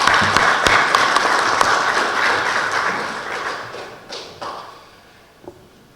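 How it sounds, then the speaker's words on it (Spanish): Audience applause welcoming a law professor to the lectern for a keynote lecture at a supreme court, dense and steady clapping that thins out and fades over the last couple of seconds. "Lo recibimos con un fuerte aplauso"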